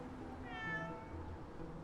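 A cat gives one clear, drawn-out meow in the middle, moderately close, over quiet outdoor background with no talking.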